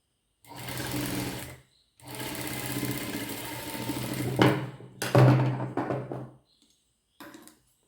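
A sewing machine top-stitching fabric runs in several bursts, each a steady fast whirr with short pauses between and a brief final burst, close and clear, with no talk.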